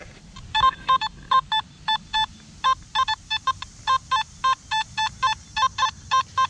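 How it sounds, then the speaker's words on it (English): An SP24 metal detector emits a steady train of short, sharp electronic beeps on a high signal, each tone evenly spaced and close, sounding alone with faint low rumble beneath. "you can hear it beep a couple times"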